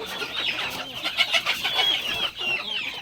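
Several country hens cluck close by while perched together on bamboo poles at night, in a busy, overlapping chatter of short, rising calls that continues throughout.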